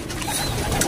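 Racing pigeons cooing after a hard race, soft low throaty coos close by, blended with faint rustling and bird activity across a short moment.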